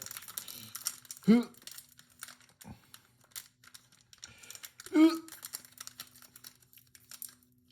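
Crinkly plastic wrapper of a Pokémon card booster pack from an Arceus V box being worked at, with two louder crumpling bursts among faint rustles and a brief voice, close up.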